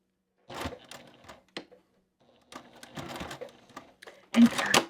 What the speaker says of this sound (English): And then I'll do a back stitch.